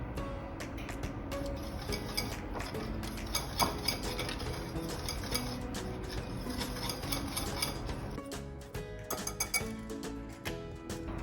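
Dry flour, salt, baking powder, baking soda, nutmeg and cinnamon being stirred together in a medium bowl, with steady clinks and scrapes of a utensil against the bowl, close and continuous.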